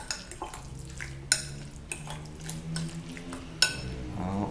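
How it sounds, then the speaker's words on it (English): A utensil stirs and mixes ingredients with pink sauce in a bowl, producing soft scraping swirls punctuated by a few sharp clinks against the bowl, close and fairly quiet. "Mix the ingredients"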